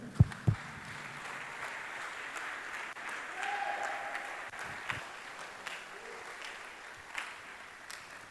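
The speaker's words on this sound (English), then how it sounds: "Can I clap for your future?" A church congregation claps during a sermon, a steady wash of applause with a few sharp louder claps near the start, a faint sustained tone partway through, and occasional thumps throughout.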